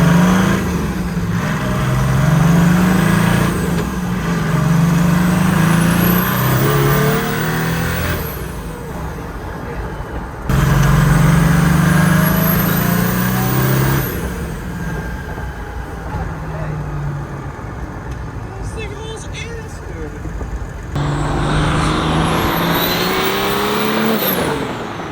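Nissan 240Z fitted with a tuned OM606 turbodiesel engine revs hard in repeated loud pulls, rising and falling in pitch with brief drops between bursts, close and continuous with no talk.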